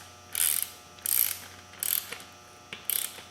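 A ratchet tightens bolts on beadlock rims for a 2003 Polaris Ranger 6x6, making four short, close clicking bursts at a steady pace followed by one brief tick, with no talking.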